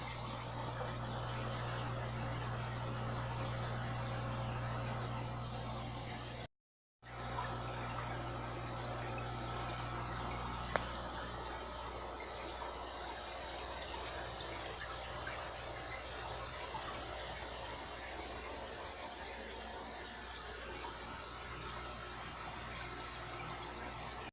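Two MaxiJet 400 powerheads run in a 55-gallon aquarium, giving a steady, even hum with a constant wash of moving water throughout, broken only by one brief dropout and a single faint click.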